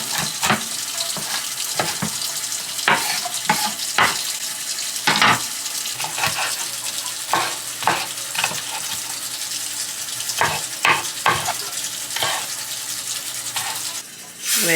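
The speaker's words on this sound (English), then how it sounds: "I'm just gonna crisp up the salmon, the skin, some." Salmon skin crisping in a pot, a steady hiss of sizzling broken by frequent sharp crackles and pops, fairly loud and close, with no talking.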